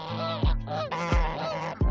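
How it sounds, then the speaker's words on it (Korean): Loud, close geese honk repeatedly, harsh nasal calls from a flock including several females overlapping in quick succession with no talking. "토리가 암컷 거위들 중 가장 체격이 작고 성격도 까칠하지만 크리미는 이를 개의치 않는 것 같다."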